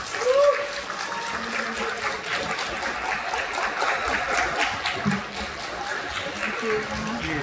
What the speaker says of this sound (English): One more hand, round of applause for Leilani Maaja Münter.